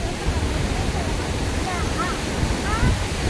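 Floodwater after a heavy downpour rushes past in a constant, loud roar, with faint voices barely rising above the torrent.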